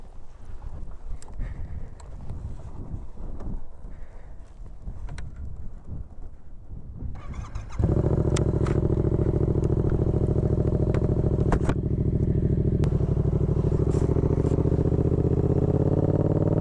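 A Yamaha MT-07 motorcycle starts up partway through after a stretch of wind and handling noise, then idles and revs with a loud, steady, close twin-cylinder engine drone that carries on to the end.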